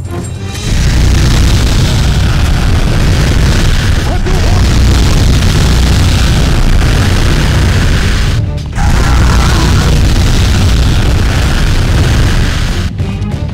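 Explosions in the PS2 game Cold Winter, a dense, loud, continuous roar of booming blasts that runs nearly unbroken, with two brief dips in the din.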